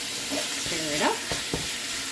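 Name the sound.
stirring sizzling pad thai sauce in pan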